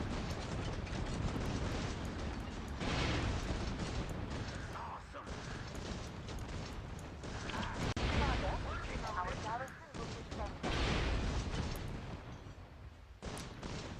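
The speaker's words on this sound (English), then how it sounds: "So he hits. All the units are shooting." Massed unit gunfire and artillery barrages from the strategy video game Warpath, a dense, loud, continuous roar of shots and booms with a voice talking over it.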